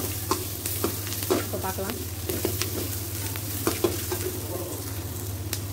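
Idli pieces fry in a pan until golden brown for chilli and pepper idli, sizzling steadily while a spatula stirs and taps in a repeating rhythm; a voice speaks briefly over it.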